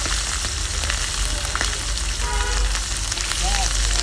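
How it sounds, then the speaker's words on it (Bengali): Hilsa fish fries in hot oil in a wok, making a loud, dense, continuous sizzle and crackle up close, with a few faint clinks. "তেলটা গরম হওয়ার পরে আস্তে আস্তে ইলিশ মাছটা ছেড়ে দেবো"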